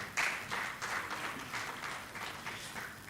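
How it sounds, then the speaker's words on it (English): Applause from an audience at a democracy summit in Africa, a steady patter of clapping that swells briefly at the start and keeps going at a moderate level throughout, with no voices over it. "So please, a round of applause for them."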